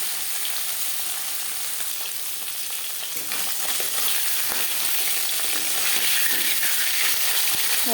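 Shol (snakehead) fish frying in smoking-hot oil in a wok, a loud, steady crackling sizzle close up that grows slightly fuller partway through, with occasional faint spatters and no voices.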